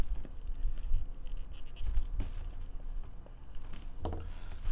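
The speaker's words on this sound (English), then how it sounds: "so I'll write RT on here" A pen or marker scratches out the letters RT on a 2017 Bowman Draft baseball jumbo card box: short, close scraping strokes in a few quick bursts over a low background hum, with no talking.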